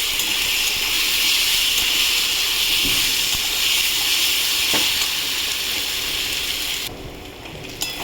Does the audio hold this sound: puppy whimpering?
no